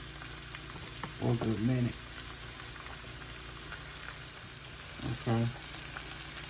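Mustard-coated pork chops fry in a pan with a steady, soft sizzle, while a voice speaks briefly twice over the crackle.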